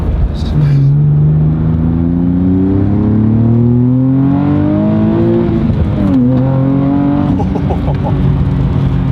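A 2023 Nissan Z sports car engine, bolt-on modified to over 500 hp, pulls hard through the gears, its pitch climbing in long rising sweeps with a brief drop at a shift, loud and close throughout.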